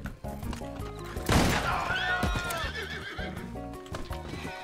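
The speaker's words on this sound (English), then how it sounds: "My horse kicked you in the head." Horse in the video game Red Dead Redemption 2 gives a loud, close whinny with clip-clopping hooves and a thudding impact, set against a steady game soundtrack.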